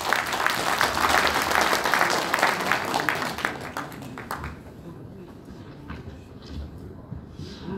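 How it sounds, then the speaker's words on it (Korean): Audience applause at an Ansan football association president's inauguration ceremony and football night, a dense round of clapping that fades out after a few seconds into quieter room noise. "박수 한번 주시죠."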